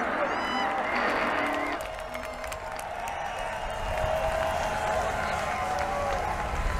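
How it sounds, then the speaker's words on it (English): Audience at the Desert Daze music festival on the Moon Stage, a sustained wash of clapping and crowd noise that swells and continues steadily, mixed with an announcer's voice early on. "let's have a round of applause"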